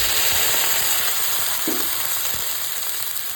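Garlic and onion frying in a pan sizzle steadily after a splash of water is added, with a brief stir or clink partway through.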